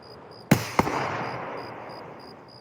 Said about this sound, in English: Are they shooting flares up?